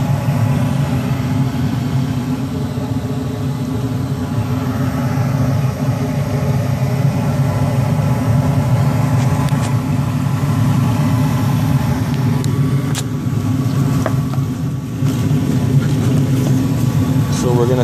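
A furnace's HVAC blower motor runs with a steady, low, even hum that holds unbroken for the whole stretch, with faint clicks and rattles on top and voices nearby.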